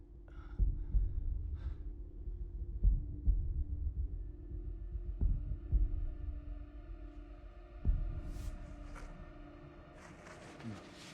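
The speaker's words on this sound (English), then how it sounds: "Got more heartbeats." Heartbeat sound effect from a Daredevil episode: a slow, low thudding pulse repeating every couple of seconds under a faint hum, with quiet voices and a few brighter sounds near the end.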